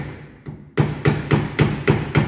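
A screwdriver is hammered against the pinion seal of a Jeep Wrangler JK Rubicon Dana 44 axle in a garage, giving one faint tap and then five loud, sharp metallic knocks at a steady rhythm.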